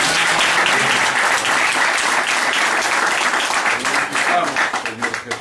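A congregation claps for the Lord during a church service in Nicaragua, loud sustained applause from many hands that stays strong before thinning and fading toward the end, with some voices mixed in.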